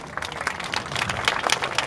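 Audience applause rings out for the dancer Raffaella on stage at a vintage-sailboat fashion show in Imperia. A dense, crackling patter of many hands keeps going steadily through the whole moment.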